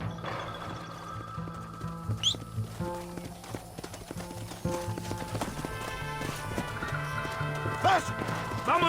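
Hoofbeats of a galloping horse in the Western video game Red Dead Redemption, a steady clip-clop rhythm running under game music, with brief whinnies and shouted voices over the top.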